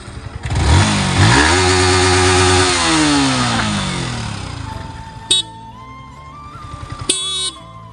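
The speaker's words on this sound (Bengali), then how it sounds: "অঙ্কুশ বাইক চালাচ্ছে, দেখো।" A motorcycle engine cranks and catches, revving loudly with rising and falling pitch, then settles into a lower running idle, with a couple of sharp clanks near the end.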